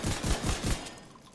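Automatic weapon fire in the video game The Division, a quick burst of four sharp shots in rapid rhythm, then fading, no voices.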